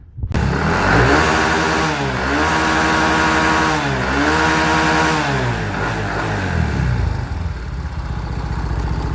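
Mio i 125 motorcycle fitted with a replacement ECU, engine revved hard repeatedly, loud buzzing climbs that rise, hold near the limiter and drop back, close to the bike.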